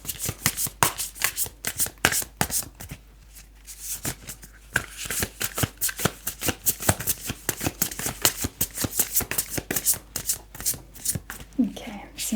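Tarot cards are shuffled by hand in rapid riffling bursts with short pauses between them, a crisp, close flutter of card slaps throughout.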